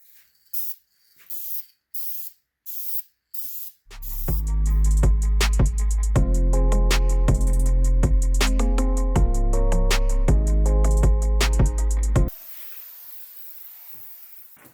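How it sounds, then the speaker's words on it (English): A few short spray bursts from an aerosol can of VHT caliper paint, then one long continuous hiss from a stuck valve that runs for several seconds before cutting off abruptly. "I started spraying, let go of it, and it just kept spraying."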